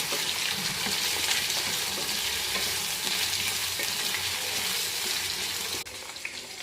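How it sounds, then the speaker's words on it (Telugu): Ginger, garlic, green chillies and onions fry in a little oil for palak paneer, giving a loud, continuous close sizzle with stirring scrapes, ending with a brief drop near the close. "కొద్దిగా ఆయిల్ వేసుకొని దీంట్లో అల్లం, వెల్లుల్లి, పచ్చిమిర్చి, ఆనియన్స్ వేసుకొని ఫ్రై చేసుకోవాలన్నమాట."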